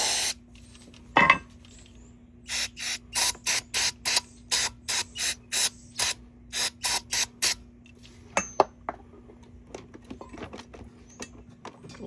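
Brake cleaner sprayed onto a Pit Bull motorcycle stand in about fifteen short hissing bursts in quick succession, close and loud, followed by a few drips and light clicks.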